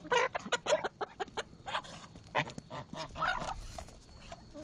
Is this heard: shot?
no